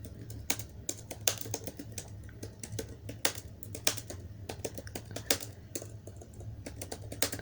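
Rapid clicking keystrokes on a computer keyboard as an institute name is typed into a web portal form, steady and close with a few sharper key hits, no voices.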